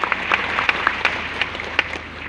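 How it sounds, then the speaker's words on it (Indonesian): Church congregation clapping hands during a sermon: a modest, steady patter of claps with a few sharper individual claps standing out, moderately close. "clap your hands"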